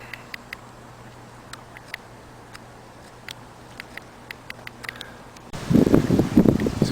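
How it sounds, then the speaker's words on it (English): Wind blows outdoors, at first a faint, steady rush with scattered light ticks and rustles, then a sudden loud gusty buffeting against the microphone near the end. "It's a good wind out."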